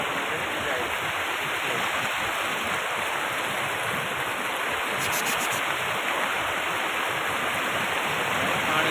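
A river runs high as its water level rises, with a steady, close rushing roar of flowing water that continues unbroken throughout.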